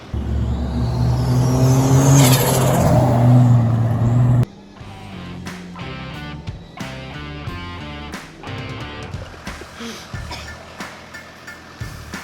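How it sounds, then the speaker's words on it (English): A Toyota FJ45 Landcruiser with a Barra engine, in four-wheel drive on off-road tracks, revs loudly and steadily for about four seconds before the engine sound cuts away to quieter, rhythmic material. "Locking in a 4-wheel drive and about to go off on the tracks."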